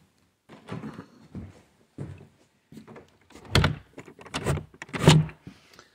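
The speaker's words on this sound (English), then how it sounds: "So let me close this door" A door being closed in a quiet abandoned town, with several knocks and thuds of the door and latch, the loudest bumps near the end, heard close with no talking.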